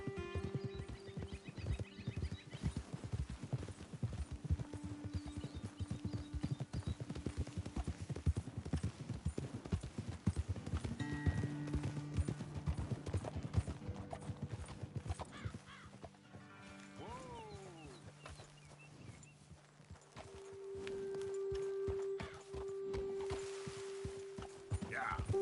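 Horses walk in Red Dead Redemption 2, with a steady clip-clop of hooves on the ground, a brief whinny, and birds cawing in the background, all faint under occasional game dialogue.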